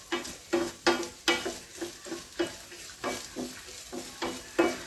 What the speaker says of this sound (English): If you want it fast, then use it on high flame and keep stirring it like this.